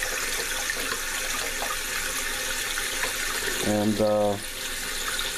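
Water pours into a handmade coil basketry vessel, a brief splashing fill with a rising tone lasting about a second, heard close amid outdoor background noise and a spoken word.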